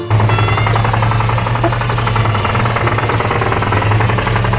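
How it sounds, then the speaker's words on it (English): A loud, rapid mechanical knocking pounds continuously from a spark plug tire pump fitted to a V8 engine, hammering away close by without pause. "it produces a horrible engine knocking sound."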